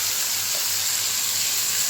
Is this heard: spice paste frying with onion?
yes